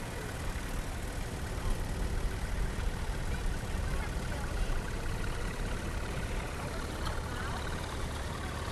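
Antique tractor from Lazy J Farms rolling past in a parade, a steady low engine drone throughout, moderately distant and continuous, under a broad outdoor wash.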